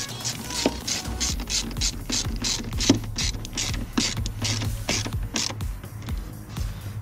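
A hand ratchet tightens a part during an automotive cooling system repair, a rapid series of close, crisp clicking strokes in an even rhythm with brief pauses, alone without talk.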